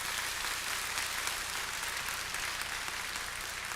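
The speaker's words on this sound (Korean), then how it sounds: "하나님 앞에 우리 영광의 박수 한번 보낼까요?" A church congregation at a Sunday service claps in a soft, even wash of applause that sounds distant and fills the whole stretch without voices.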